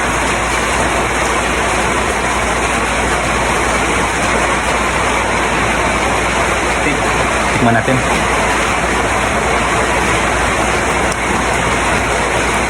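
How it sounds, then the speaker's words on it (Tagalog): Steady, heavy rain hisses continuously throughout in Pampanga, Philippines, loud and unbroken, while a person speaks briefly over it. "Kung narinig nyo yung patak ng ulan, umuulan na naman dito."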